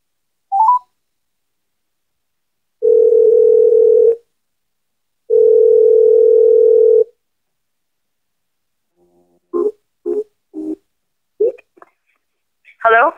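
Telephone dial tone heard during a callback, two steady tone bursts of about a second and a half each, then a quick run of short dialing beeps, all clear and alone with no talk.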